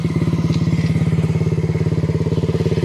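A dirt bike engine runs at a rough, steady idle with a fast pulsing beat, loud and close, with no talking over it.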